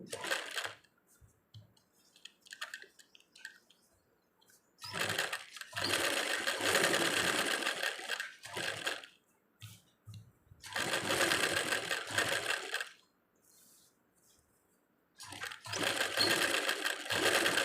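A sewing machine stitches cut-work maggam embroidery without a presser foot. It runs in several loud, steady bursts of whirring stitching separated by quiet pauses.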